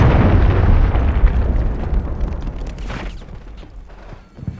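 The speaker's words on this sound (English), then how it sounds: "Grenade." Grenade explosion in Call of Duty Modern Warfare III multiplayer, a loud heavy boom already rolling at the start and slowly fading through a long rumbling tail, with faint game noise after.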